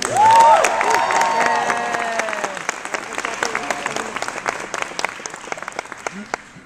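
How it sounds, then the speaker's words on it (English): An audience at a presidential introduction event breaks into loud, sustained applause with some cheering, starting strong and gradually thinning out as a voice speaks over it. "So give her a big round of applause."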